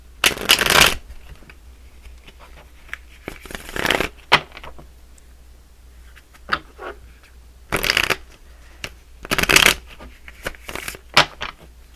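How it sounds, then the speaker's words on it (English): Oracle cards shuffled by hand in several quick riffling bursts separated by brief pauses, close and fairly loud in an otherwise quiet room. "So let's pull another oracle card. This is a love oracle card."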